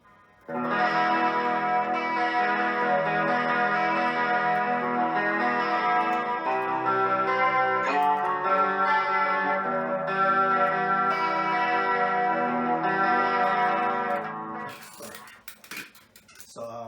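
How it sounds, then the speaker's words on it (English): An electric guitar played through analog delay, analog chorus, light screamer-style distortion and compression rings out in sustained, echoing chords for about fourteen seconds, then fades into brief clatter and noise. "I'm using analog delay, I'm using analog chorus, I'm using like a little bit of distortion, specifically it's screamer, and I'm using like compression"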